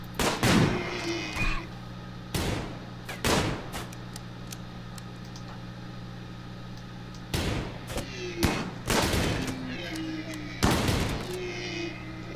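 Shotgun blasts in RimWorld, sharp loud reports in scattered bursts of one to three shots, separated by quieter stretches over a steady low game hum.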